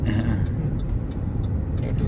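A car coasts in neutral after slowing for a speed breaker near Madinah, a steady low road rumble and tyre noise running throughout, with faint voices underneath.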